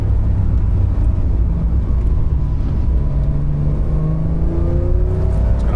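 A Porsche 992.2 Carrera T with a 3-liter twin-turbo engine accelerates on a rainy road, its loud engine drone rising steadily in pitch through the gears over a constant rumble of road and tyre noise.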